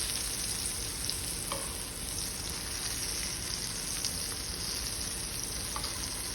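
Zucchini pieces sauté in a hot pan over lowered heat, a steady broadband sizzle running the whole time with a couple of faint utensil taps as pieces are flipped.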